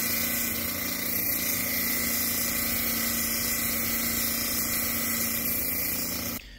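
A belt sander grinds a rock on a fairly new wet sanding belt, giving a steady, close, high-pitched whine and hiss that holds evenly for about six seconds before cutting off at the end.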